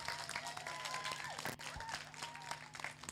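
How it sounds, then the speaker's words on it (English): Audience applause at a Christmas concert, steady clapping from a crowd filling the room with faint voices and some tonal sounds mixed in. "should we have a round of applause for those two"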